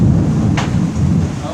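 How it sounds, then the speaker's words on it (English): Large hail pelts down during a storm in a dense, loud roar, with one sharper impact standing out briefly over the steady downpour. "Is that hail? I heard something."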